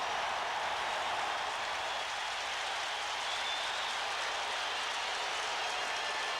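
The stadium crowd at a 1988 Raiders at Oilers NFL football game sends up a steady, distant roar of cheering and applause that holds unbroken throughout.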